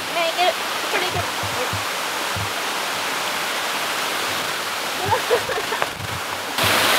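A forest river rushes with a steady broadband roar of flowing water, loud and continuous close by, while voices speak briefly over it.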